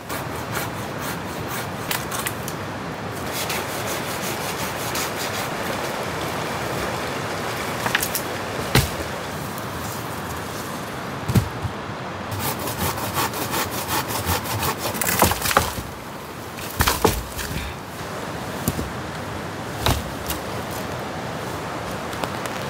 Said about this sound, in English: We've got the Silky Zubat Arborist, and we're going to go destroy it on some of this extremely dense and hard manuka wood.